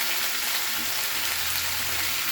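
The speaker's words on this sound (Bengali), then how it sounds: "এবার আমি নাড়ছি খুব ভালো করে, পেঁয়াজটা কিন্তু হালকা লাল হয়ে আসছে।" Onions frying and turning golden in a pan while being stirred, a soft steady sizzle and scraping throughout, no talking.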